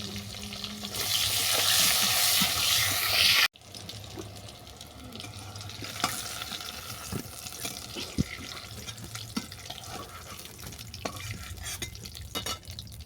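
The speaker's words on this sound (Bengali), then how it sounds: "মাছের তেলে বেগুনটাকেও ভেজে নেব" Eggplant sizzles steadily in fish oil in a pan, loud and continuous at first, then it cuts abruptly to quieter kitchen clatter and faint bubbling.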